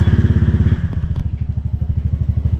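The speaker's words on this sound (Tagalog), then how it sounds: "So turn on ulit natin yung engine." A Honda Click scooter engine idles close by after being turned on, a rapid, even putter of low throbbing pulses running throughout with a brief clunk in the middle.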